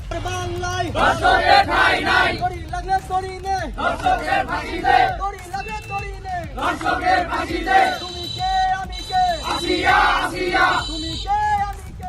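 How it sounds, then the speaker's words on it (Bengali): Student activists at a human-chain protest at Rabindra University chant slogans against rape and violence toward women: a loud crowd shouting in rhythmic call-and-response bursts, close and energetic, repeating for about twelve seconds. "বিক্ষোভ কর্মসূচিতে নারী নিপীড়ন বন্ধে বিভিন্ন স্লোগান দেয় নেতাকর্মীরা"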